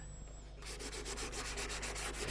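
Sandpaper cloth rubs rapidly back and forth across a handmade violin's wooden surface during final polishing, a close, rhythmic scratchy swishing that starts after a brief quiet moment.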